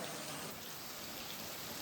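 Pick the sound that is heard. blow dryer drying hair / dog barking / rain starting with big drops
rain starting with big drops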